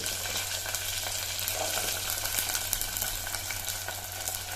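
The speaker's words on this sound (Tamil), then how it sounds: "பூண்டு வெங்காயத்தையும் ஒரு அஞ்சு நிமிஷம் நல்லா வதக்கணும்" Small onions and garlic fry in a pan for a green lima bean kuzhambu, giving a steady bright sizzle with faint crackles and soft stirring throughout, close and continuous without any talk.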